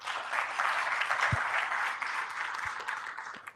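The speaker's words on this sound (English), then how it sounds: "Can I hear a clap, big clap for the ABSA team?" Audience applause at the Airtel Uganda prospectus release event, a continuous mid-level patter of many hands clapping for a few seconds, steady throughout with a couple of dull thumps underneath.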